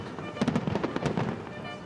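Fireworks crackle and pop over a marina during an evening boat arrival, a dense burst of rapid bangs and rumbles close enough to fill the scene.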